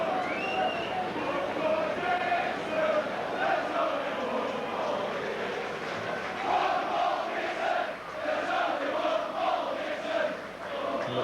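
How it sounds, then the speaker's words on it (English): Rugby league crowd in the south stand at Headingley, Leeds, chanting and singing the praises of Paul Dixon during a match against Rochdale Hornets, a sustained rhythmic mass of voices rising and falling throughout. "the crowd singing the praises of Paul Dixon and Simon Irving"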